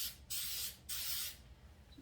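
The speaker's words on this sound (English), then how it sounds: "I'm just gonna grab cooking spray" Cooking spray spritzed onto a muffin pan: two close hissing bursts, each about half a second long, followed by a quieter tail with no talking.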